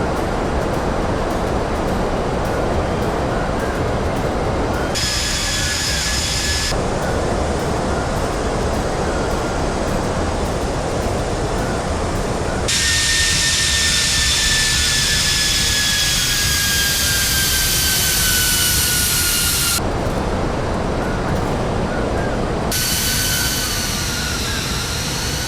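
Airbus A321 of Hawaiian Airlines on approach to Maui in the Prepar3D simulator: continuous loud jet engine roar with rising and falling whine tones, steady throughout and alone.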